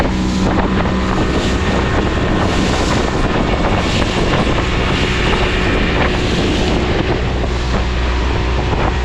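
A motorboat engine and propeller drive steadily across Upper Kachura Lake near Skardu, Pakistan, a loud continuous drone heard close up and mixed with heavy wind buffeting the microphone. No one talks.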